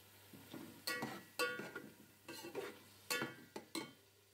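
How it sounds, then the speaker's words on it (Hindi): Cooked mutton being stirred with masala in a cooking pot for pulao, giving intermittent scraping and clinking strokes with a faint sizzle underneath, close and moderately quiet. "इसको थोड़ा सा मसाले के साथ एक मिनट मिक्स करके एहतियात से घुमाएंगे कि हमारा गोश्त टूटे ना"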